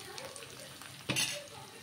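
Curry leaves hit hot oil with onions in a pan while cooking cabbage pappu. A soft, steady sizzle builds into a brief louder crackle and stir about halfway through, then settles back to a faint fry.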